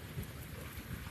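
Steady rain pours down with a low rumble of thunder underneath, a dense, continuous outdoor wash of sound with no voices.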